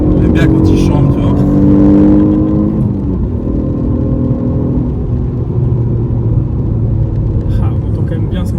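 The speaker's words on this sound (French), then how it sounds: "on entend quand même bien ce moteur, il chante" An Alfa Romeo 147 GTA's V6 engine revs up loudly with a rising, throaty roar, then settles into a steady drone as it keeps pulling.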